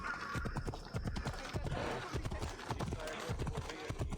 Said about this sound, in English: Nice jump over that fire,